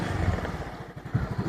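A new Yamaha Gravis motorcycle engine on its first ride, running with a steady, low, pulsing putter at close range, with no talk over it.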